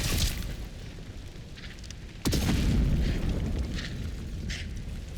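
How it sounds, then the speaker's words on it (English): A nail bomb explodes in the video game Atomfall with a sudden loud boom, followed by a heavy rumbling roar that lasts several seconds over a constant background of game noise. "Let's try a nail bomb."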